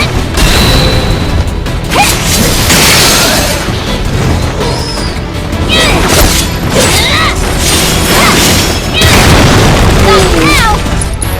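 A fire spell is cast in combat in Final Fantasy VII Remake Intergrade, a loud whooshing burst among booming battle effects and music, with a player talking over it.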